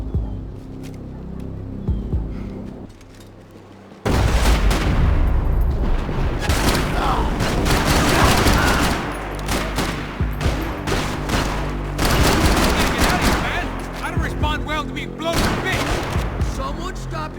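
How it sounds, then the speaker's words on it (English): Dense gunfire in the Max Payne 3 video game: rapid bursts and repeated loud shots crack over a continuous roar of combat, with voices shouting in between. "Someone stop him shooting at me!"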